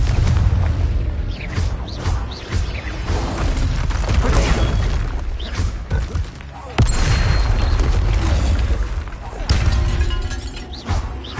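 Repeated booming blasts from the Confringo spell in Hogwarts Legacy, fought against a troll, crash loudly and densely one after another amid rumbling battle noise and a shouted voice.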